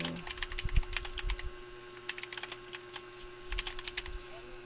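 Quick bursts of close, light keystrokes on a computer keyboard tap out a file name in two short runs, over a low steady hum.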